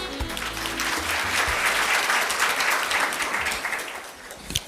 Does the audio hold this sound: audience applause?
yes